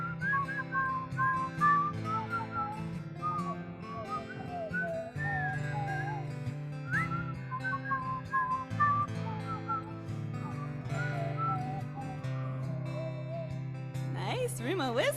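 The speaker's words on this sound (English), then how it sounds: "we'll whistle a while together" A Unitarian Universalist congregation whistles a simple tune together at a Sunday service, many faint wavering whistles blending over a sustained accompaniment, ending with a brief rising flourish.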